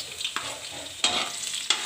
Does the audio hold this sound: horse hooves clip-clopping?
no